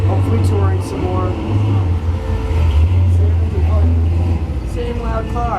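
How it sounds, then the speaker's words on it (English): A loud car passes close by outdoors, a steady low engine drone building and lingering across the whole stretch, with a few faint voices in the background. "Same loud car coming back."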